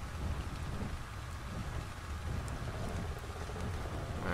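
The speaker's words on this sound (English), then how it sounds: "Oh, it's raining." Steady rain in the video game Ark: Survival Evolved, Ragnarok desert map, pours down with a dense, hissing patter, constant and fairly soft, with no voices.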